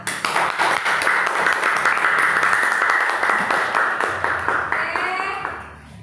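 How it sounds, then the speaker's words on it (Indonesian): Classroom of students applauding presenting groups, a lively burst of clapping that holds steady and tapers off, with a short scraping noise near the end. "kita berikan tepuk tangan yang meriah untuk teman-teman yang sudah berani maju ke depan"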